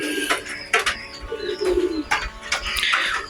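Domestic pigeons coo in their nests on a cloudy day, giving a series of soft, throaty, rolling coos at close range, several overlapping phrases in a loose rhythm, with light chirps and faint background noise.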